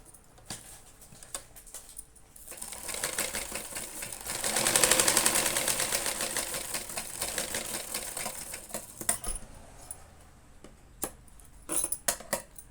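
Sewing machine stitching a seam down the middle of fabric, a rapid mechanical whir that builds to a loud steady run and then tapers off into scattered clicks, with no voices.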